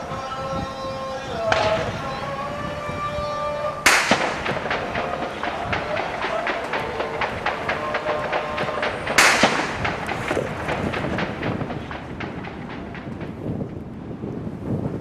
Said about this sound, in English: That's anti-aircraft fire